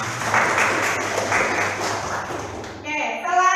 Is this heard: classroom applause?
yes